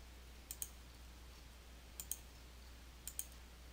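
Mouse clicks while editing in Photoshop Elements 2021: three quiet, close double clicks spaced over a few seconds against a low steady hum.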